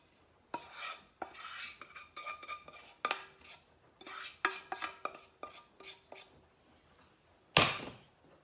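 Dry biscuit crumbs for a key lime pie base tipped into a dish, giving a series of clinking, scraping impacts in uneven bursts, with a louder clatter near the end; no speech.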